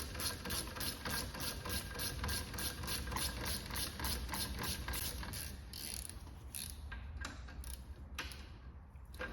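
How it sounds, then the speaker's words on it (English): A 7mm Allen key on a ratchet undoes the front brake caliper sliding pins on a VW Golf, producing rapid, close, regular ratcheting clicks that slow and thin out toward the end. "Put your 7mm Allen key and just undo these two sliding pins."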